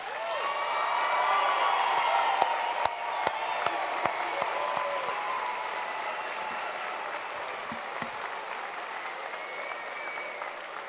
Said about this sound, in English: let's have one more round of applause for those graduates